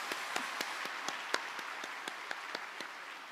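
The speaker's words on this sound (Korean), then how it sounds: "다시 한번 큰 박수로 격려하겠습니다." A church congregation claps for its choir during an early-morning revival service, a sparse, fairly soft round of distinct individual claps with a steady rhythm and no talking.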